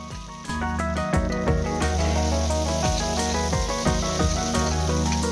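Onions and mint leaves sizzle steadily in a hot pan for veg biryani, a close, continuous frying hiss with light crackles and occasional soft scraping clinks of stirring, no talking.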